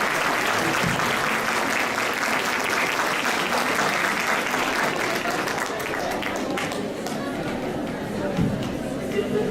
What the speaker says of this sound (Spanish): Es así como les brindamos un caluroso aplauso a nuestros dos ponentes